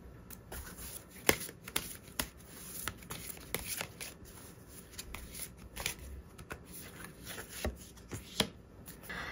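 Tarot cards are shuffled close by in quick irregular bursts of riffling, slapping and flicking that go on throughout, over a quiet background with no talk.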